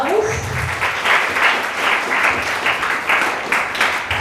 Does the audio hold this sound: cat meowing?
no